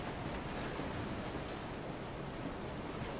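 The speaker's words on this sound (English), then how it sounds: "that rain is really loud" Steady, dense rain hiss from the video game Resident Evil 7 fills the whole stretch, loud and broadband with no voices, like a heavy downpour close by.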